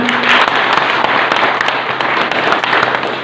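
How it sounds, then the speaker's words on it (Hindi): A crowd applauds its president at a welcome ceremony at the Azamgarh civil court, with dense, steady clapping filling the whole stretch at close range. "मैं चाहूंगा हमारे आदरणीय अध्यक्ष के लिए भी एक बार तालियां हो जाएं।"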